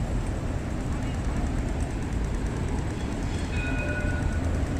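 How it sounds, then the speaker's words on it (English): A train rattles past apartments in Melbourne, a loud, continuous rumbling roar with a constant clatter that fills the whole stretch and carries a faint high squeal near the end. "You hear that train just rattling all day."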